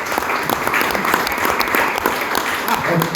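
Loud, sustained clapping from a seated audience at the official opening of the Borgolibri 2023 literature festival, dense and even throughout with a few sharper individual claps standing out.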